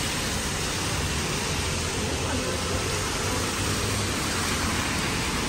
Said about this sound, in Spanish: Y acá no para de caer agua.